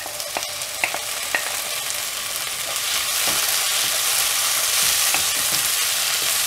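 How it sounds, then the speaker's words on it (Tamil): Tomatoes fry in hot oil in a pan with a steady, dense sizzle that swells louder partway through, punctuated by a few light clicks of stirring. "தக்காளி ஆட் பண்ணிவிட்டு இதை நல்லா ஃப்ரை பண்ணணும் எண்ணெயிலே"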